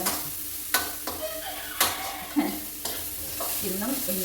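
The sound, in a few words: stirring food frying in a pan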